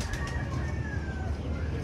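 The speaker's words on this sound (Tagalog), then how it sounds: "Ay mga ibon natin." Soft, low cooing of pigeons or doves close by, a steady murmur with faint chirps over a muffled background.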